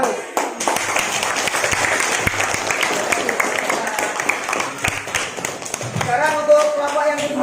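A classroom of students applauds, a dense, close burst of clapping that carries on steadily, with a voice speaking briefly near the end.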